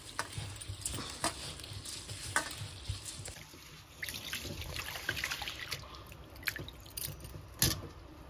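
Rice being washed by hand in water, grains rubbed and swished with irregular splashes and drips, close and fairly quiet, no talking.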